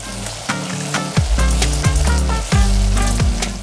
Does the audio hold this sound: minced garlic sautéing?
yes